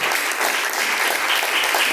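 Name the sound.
congregation clapping joyfully for Jesus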